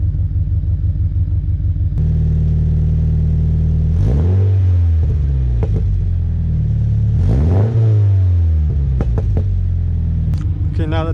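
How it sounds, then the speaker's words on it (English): A Subaru BRZ fitted with a UEL header idles with a deep, boxy boxer-engine rumble, then revs up twice in rising and falling sweeps, loud and close, with a voice briefly heard over it. "She's a little bit more of that boxy rumble."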